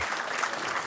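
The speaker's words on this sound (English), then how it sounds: "A round of applause, please, for the members of the Eastern Athletic Hall of Fame." Audience at an athletics hall of fame banquet applauding steadily, a dense, continuous clatter of many hands clapping at close range with no voices over it.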